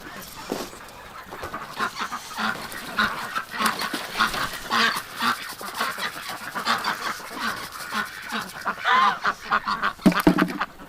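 A duck quacks loudly and repeatedly at close range in a winter setting, with busy overlapping honking calls running throughout.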